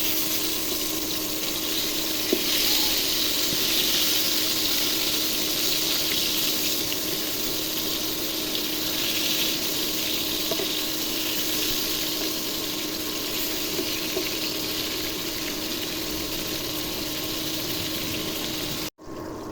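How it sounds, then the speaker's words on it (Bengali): Brinjal (eggplant) pieces fry in a pan, giving a steady, unbroken sizzling hiss at close range with no talking. "বেগুনগুলো ভাজা হয়ে গেছে"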